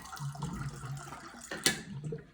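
Water runs from a kitchen tap, a soft, steady trickle and splash with a brief louder splash partway through.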